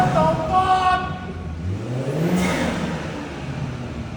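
Revs from a BMW engine with an inexpensive aftermarket intake rise and fade, one clear swell sweeping upward midway, close and moderately loud, with little talk.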